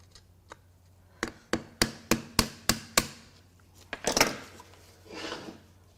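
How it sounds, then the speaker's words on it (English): A series of about eight sharp metallic hammer blows in a steady rhythm, close up, on carbon-seized parts of a junk Mazda RX-8 13B Renesis rotary engine, followed by scraping and clattering of metal parts. "Let's get a hammer here."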